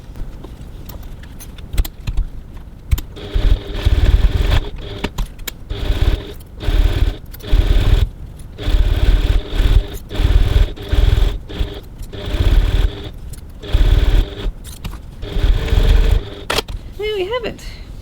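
A sewing machine stitches handbag straps, a rolled handle for a boxed tote bag, in repeated short bursts of rapid whirring separated by brief pauses, close up and fairly loud.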